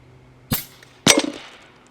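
A single shot from an Umarex Gauntlet SL .30 caliber air rifle: a sharp close crack, then about half a second later a louder, ringing smack of the pellet striking its target.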